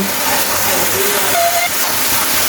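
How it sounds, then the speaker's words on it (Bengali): Masala with ground onion paste fries in a pan for chicken biryani, giving a loud, steady hissing sizzle that runs unbroken from start to end. "মশলাটাকে আমি ভালোভাবে এভাবে ভুনে নেব।"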